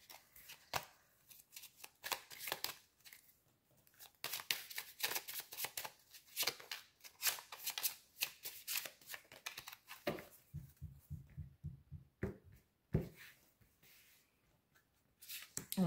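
Tarot cards are shuffled in close, crisp riffling bursts, then handled and drawn with softer slaps and flicks. The bursts come in irregular clusters, and there are brief quiet gaps between them.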